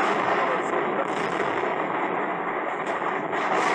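A burning ammunition depot roars with a dense, continuous rumble as rockets fly off and ammo explodes, heard loud and close with no clear gaps.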